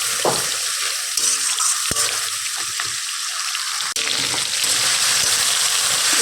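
Water poured into a pan of frying fish head with spices while cooking a Malabar spinach stir-fry, a steady broad hiss and trickle with faint sizzle and occasional clinks throughout, close and fairly loud.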